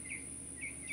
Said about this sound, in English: Love hearing the birds chirping.